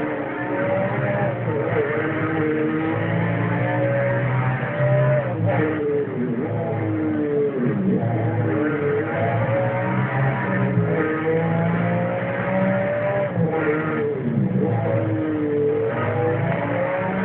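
A car engine revs and drones steadily at close range, its pitch rising and falling in repeated sweeps, loud and continuous throughout with no voices.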